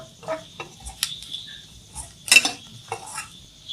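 Coconut and curry leaves being tossed in a frying pan, with light scattered scrapes and metallic clinks of a utensil against the pan over a faint sizzle, close and intermittent.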